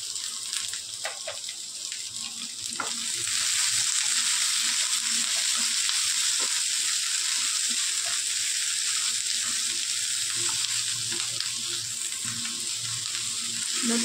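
Onion and capsicum sautéing over a high flame in a kadhai, a loud continuous hiss of frying that swells after a few seconds and holds steady, with faint occasional stirring taps and no voices.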